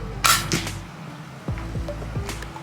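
Walnut slingshot rifle firing an 8mm steel ball at a pheasant-head target 20 yards away, with a sharp snap of the release followed by a couple of lighter impacts and clicks over low background hum.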